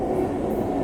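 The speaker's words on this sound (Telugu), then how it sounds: "ఇంకా ట్రైన్ ఇప్పుడు పోతుంది" An express train rolls past a level crossing in Kerala, a steady close rumble of wheels and carriages filling the short stretch without pause, with no talk over it.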